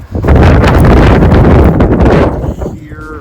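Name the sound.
strong wind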